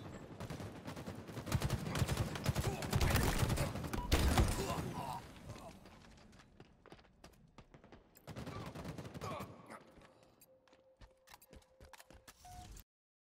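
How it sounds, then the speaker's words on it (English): Rapid bursts of gunfire from a team shooter esports game, loud and dense for the first several seconds as enemies shoot, then thinning to scattered shots and clicks with a faint tone near the end. "I've chosen a moment in the game where I take enemy fire"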